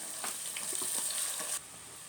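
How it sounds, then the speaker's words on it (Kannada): Washed rice and moong dal dry-roasting in a pressure cooker: a brief, steady scrape-and-rattle of grains being stirred, close and moderately loud for about a second and a half, then falling away to quiet. "ಅಕ್ಕಿ ಮತ್ತು ಹೆಸರುಬೇಳೆ ಹಾಕಿರೋದು, ಅದು ಹೆಚ್ಚು ಬೇಡ, 1 ನಿಮಿಷ ಸ್ವಲ್ಪ ಹುರಿದ್ರೆ ಸಾಕು"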